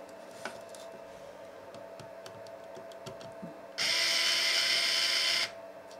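Screws are removed from a Panasonic HC-V770 camcorder. Faint small clicks and handling come first, then a loud, steady high whine from a small powered driver runs for about two seconds and stops.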